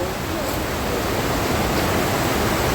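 Steady, loud rushing of a mountain stream in Bukhansan National Park fills the clip, a dense broadband roar like a fast stream or small falls close by.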